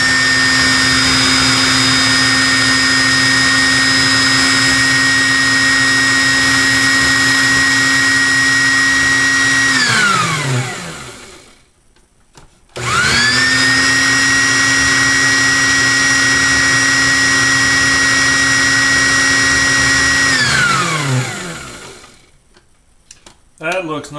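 A food processor with a plastic blade blends a creamy, spicy beer cheese mixture. It runs in two long, loud, steady whirring bursts of about ten seconds each, separated by a short pause, with no talking over it.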